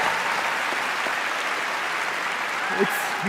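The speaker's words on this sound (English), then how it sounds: "So please, a round of applause for them." At The Game Awards, the audience gives broad, continuous applause that fills the room in an even, sustained wash, with a brief faint vocal sound near the end.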